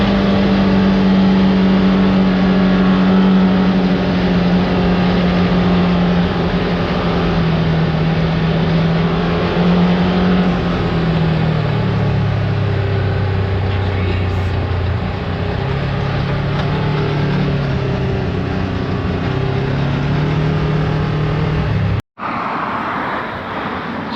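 Engine of a 2024 Polaris RZR XP side-by-side driving on the road with other machines, a loud continuous drone shifting pitch as it speeds up and slows, close by, ending in a brief cut.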